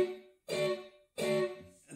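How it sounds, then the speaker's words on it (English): Two light strikes of an electric blues guitar chord, each barely struck and then muted by the fretting hand, sound close and quiet with short gaps between them. "But if I barely strike it and let off with my left hand,"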